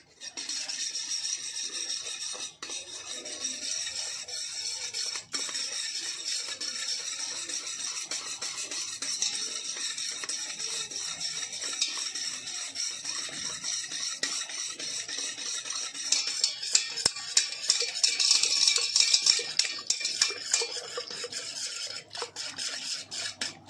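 Homemade creamy ice cream base being stirred in a bowl, a steady scraping, rubbing swirl that continues without a break, close and moderately loud, growing a little busier toward the end.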